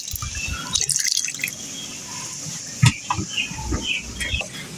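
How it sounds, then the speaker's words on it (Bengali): Broth is poured into shrimp bhuna frying with onions, bringing a steady hiss of sizzling oil with scattered drips, pops and bubbling bursts, close and fairly loud, with no talking. "এরপর আমি পরিমাণ মতো ঝোল দিয়ে নিলাম।"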